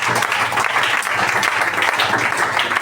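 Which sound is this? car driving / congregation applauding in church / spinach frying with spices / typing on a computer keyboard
congregation applauding in church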